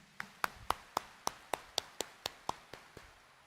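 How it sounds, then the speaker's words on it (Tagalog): Hands clap during a church homily for the Jesus Nazareno devotion, about a dozen crisp, evenly spaced claps in a steady rhythm, fairly quiet and with no talking over them. "Itaas nga ang kamay at pumalakpak ng mas malakas."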